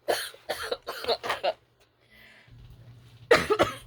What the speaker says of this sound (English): I really do hate this cough